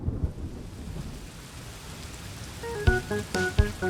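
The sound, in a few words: rain falling with thunder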